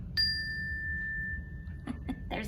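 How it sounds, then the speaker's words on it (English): A single bright bell ding rings out and its clear tone lingers for over a second before fading. A few soft clicks and rustles follow near the end. "There's the bell."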